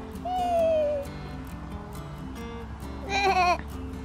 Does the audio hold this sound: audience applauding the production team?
no